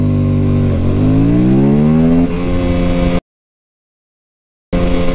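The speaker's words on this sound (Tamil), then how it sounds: "ஏப்ரல் ஆர்எஸ் 457 0 to 60 எவ்வளோ நேரத்தில் போதுன்னு பார்ப்போம்." An Aprilia RS 457 motorcycle roars hard from a standstill toward 60, its engine note climbing steadily through the revs before cutting out into a short silence and then resuming loudly.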